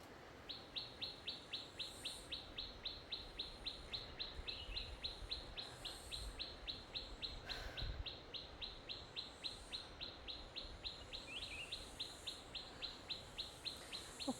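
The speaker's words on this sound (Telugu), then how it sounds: "సౌండ్ వినిపిస్తున్నాయా పిచ్చుకలు?" Sparrows in a bamboo forest on a Meghalaya trek give faint, quick chirps in a very regular repeating rhythm, steady for the whole stretch over a soft background hiss.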